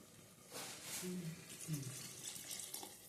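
A steady stream of water runs into a pot of Gujarati mixed vegetable sabji, a continuous splashing rush with a voice talking over it partway through.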